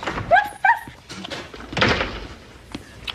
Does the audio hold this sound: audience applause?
no